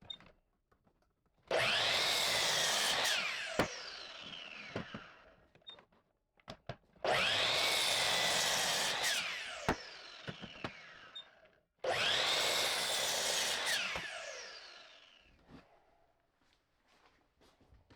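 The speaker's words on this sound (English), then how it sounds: "Cut this wood square and all the same, then cut them at their final length." A power saw cuts 4x4 wooden bench legs to length in three separate cuts: each is a loud whining burst that sags in pitch as the blade bites, then spins down into quiet before the next.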